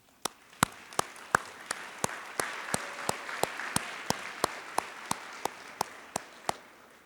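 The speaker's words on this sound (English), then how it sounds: "Let's recognize them with your applause for their incredible effort and dedication." At a fall commencement ceremony, an audience applauds in a soft, sustained wash, while one nearby pair of hands claps sharply and evenly about twice per second throughout.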